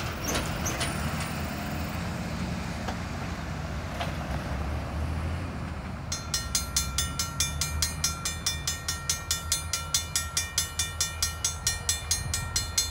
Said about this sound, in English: those locomotives were working hard